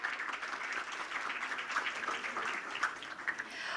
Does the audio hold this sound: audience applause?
yes